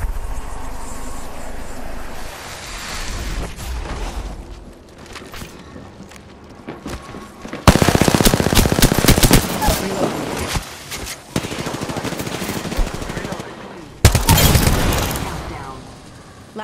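Rapid automatic gunfire rattles in a fast-paced battle royale shooter, with bursts of loud close shots broken by quieter stretches, in-game character voice lines, and a player talking throughout.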